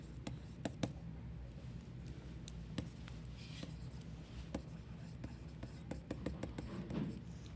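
Pen writing out a chemistry net reaction, scratchy strokes with sharp taps and clicks scattered irregularly, close and soft under faint background noise.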